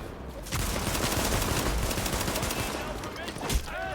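Rapid gunfire crackles through a survival video game, a pistol firing in a dense burst of overlapping shots that runs nearly the whole stretch, loud and continuous with a louder crack near the end.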